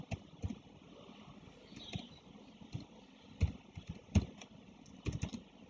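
Keystrokes on a computer keyboard while CSS code is entered, a few scattered clicks and short bursts of taps with gaps between them, close but soft.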